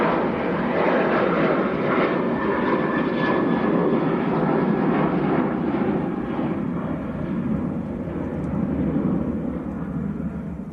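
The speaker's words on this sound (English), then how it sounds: "This is Ryanair to Barcelona with a sticker on the side" A Ryanair jet departing Manchester Airport for Barcelona roars loudly and continuously, a deep rumbling engine thrust that holds strong and fades only slightly near the end.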